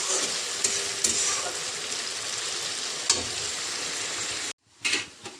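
Onions sizzle steadily in hot oil in a pan while being stirred, with clicks and scrapes of the utensil against the pan, close by; the sizzle cuts out abruptly near the end, then a few soft clatters follow.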